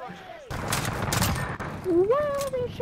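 Video game gunfire rattles in a dense burst under loud, overlapping shouting voices, continuing through the short stretch while a player yells.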